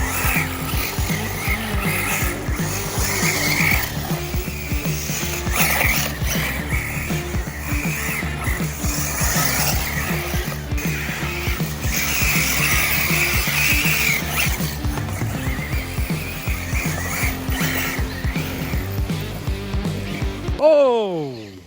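An Arrma Typhon TLR RC buggy on new belted tyres drives on sand, its electric motor whining and revving continuously up close with tyre scuffing, while a person speaks over it.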